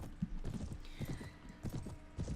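Horse hooves from the Mount & Blade video game, rapid clip-clop footfalls in an uneven gallop, close and fairly quiet.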